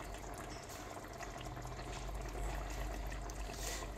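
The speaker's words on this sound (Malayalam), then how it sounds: "കുറച്ച് വെളിച്ചെണ്ണ ഒഴിച്ച് കൊടുക്കാം" Coconut oil is poured over a simmering chicken curry in a home kitchen, giving a soft, steady trickling and bubbling hiss that stays faint and even throughout, with no voices.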